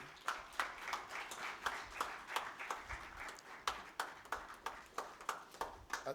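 Audience clapping at an energy-sector awards ceremony, steady applause with sharp individual claps throughout, continuing evenly without voices.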